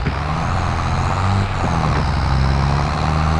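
A John Deere 7810 tractor in Landwirtschafts-Simulator drones with a steady, loud low engine rumble, briefly dipping and then settling into a deeper tone as it shifts down a gear.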